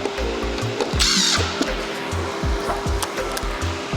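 A power drill drives stainless steel screws into a plastic front splitter under the bumper of a 2023 BMW M2 G87, close and loud, with a steady whining motor broken by short pulsing bursts and a brief hiss midway.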